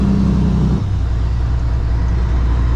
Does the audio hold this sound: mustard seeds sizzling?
no